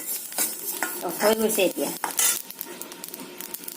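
Whole spices, including cumin, are dry-roasted in a pan for homemade masala, with a utensil scraping and stirring in irregular strokes over a light sizzle, close up. A brief spoken remark cuts in partway.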